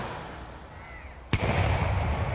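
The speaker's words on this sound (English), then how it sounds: "Royal Artillery troops fired cannons 41 times to salute Queen Elizabeth II's Sapphire Jubilee" Royal Artillery cannons firing a salute for Queen Elizabeth II's Sapphire Jubilee in London: one sharp distant boom over a continuous noisy outdoor rumble, with the reverberation rolling on afterward.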